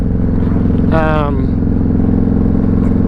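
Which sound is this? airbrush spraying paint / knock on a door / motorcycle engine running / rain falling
motorcycle engine running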